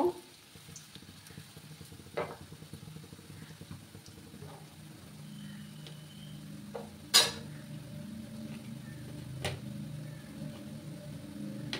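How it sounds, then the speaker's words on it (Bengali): A batch of food fries in a pan over a medium gas flame, giving a low, steady sizzle with a few sharp utensil clinks against the pan, and no talking. "এভাবে আমি গ্যাসের ফ্লেমটাকে মিডিয়াম করে দিয়ে বাকিগুলো ভেজে নেব।"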